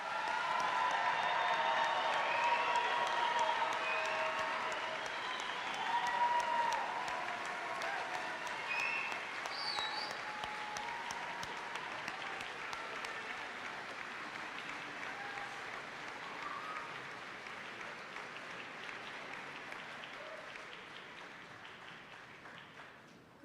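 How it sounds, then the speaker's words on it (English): A commencement crowd applauds the graduating class at a college ceremony, with sustained broad clapping and some cheering for over twenty seconds that slowly thins and softens. "as we applaud the graduating class of"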